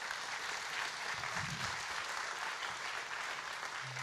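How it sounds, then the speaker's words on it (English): Conference audience applauds a speaker, a continuous wash of many hands clapping, steady and distant-sounding, with a few low murmurs underneath. "huge applause for Uma"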